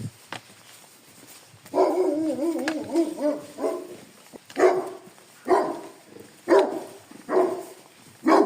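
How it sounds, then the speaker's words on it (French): Tethered village dogs along the Camino de Santiago give a wavering howl, then a run of sharp, fairly close barks at steady intervals, with no one talking. "Tu vois les chiens toujours attachés"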